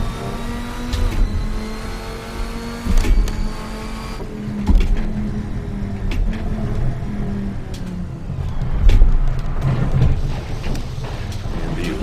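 Race car engine in Assetto Corsa on worn, dirty tires, revving and shifting through gears as it is driven around a track, with a steady engine drone and rising and falling pitch throughout, plus occasional tire and bump noises.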